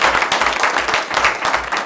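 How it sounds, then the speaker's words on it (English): A small audience applauds at a South Charleston city council meeting, a steady wash of clapping from many hands that holds for about two seconds with no voices over it. "you can clap for her"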